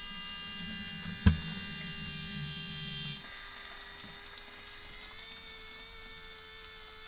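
A cheap $5 fuel pump siphons gasoline out of a car's fuel tank, running as a steady close electric whine with a low rumble, marked by a sharp click early on before the rumble drops away.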